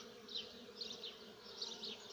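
Honeybees buzz around blossoming cherry trees on a spring day, a soft, continuous hum that swells in a few rising and falling passes, with faint background noise beneath.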